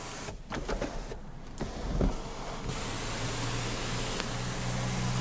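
A motorized panoramic sunroof opens on a 2014 Cadillac CTS 2.0T Luxury AWD, giving a steady electric whirr with a few faint clicks and thumps, close by inside the quiet cabin.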